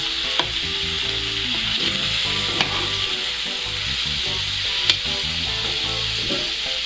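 Vegetables are stirred in a frying pan over a steady, close sizzle, with a few sharp clicks of a utensil against the pan. No one talks over the sound.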